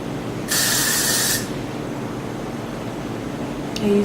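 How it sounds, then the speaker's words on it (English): Hairspray sprayed on a synthetic half wig, a single close hissing aerosol burst lasting about a second, over quiet room background. "I use the hairspray to tame it."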